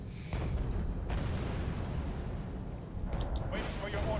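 Heavy rumbling explosions from a bombing run in the video game Wargame Red Dragon roll on continuously with dense low booms, near and loud, with brief quieter gaps.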